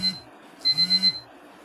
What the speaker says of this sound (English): that was an alarm